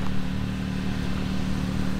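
A truck engine given the tiniest bit of gas during a water rescue idles at a steady, loud low rumble for about two seconds, with no clear rev rise; no talking.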